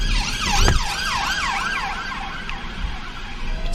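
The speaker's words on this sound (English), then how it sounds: "Just letting the police car go." A police car's wailing siren sweeps up and down repeatedly, fairly close, over steady road and campervan engine noise.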